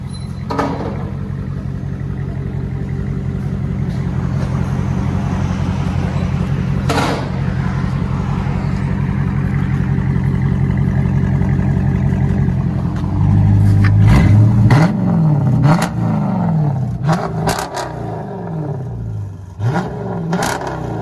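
A Chrysler 300 with a big V8 engine idles with a steady low rumble, then revs hard several times, the pitch climbing and falling in loud bursts, close by and with no voices over it.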